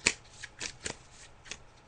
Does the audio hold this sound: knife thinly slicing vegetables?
no